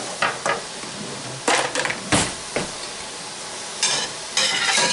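Food fries in a pan on a home kitchen stove, a steady close sizzle with bursts of stirring and scraping every second or so.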